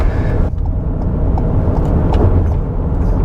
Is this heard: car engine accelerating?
yes